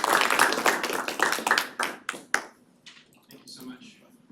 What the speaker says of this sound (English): Let's give a round of applause to welcome Aedhan Scott.